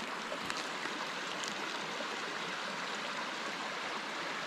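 A creek along Alabama's Pinhoti Trail rushes and burbles in a continuous broadband wash of flowing water, close and steady, with no voices over it.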